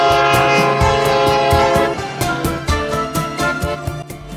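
A train bound for Mandapam station in South India sounds its horn loudly and steadily, with rhythmic rail clatter and car rumble running beneath.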